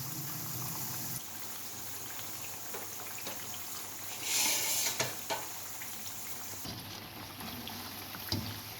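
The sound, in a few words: potato pakoras frying in oil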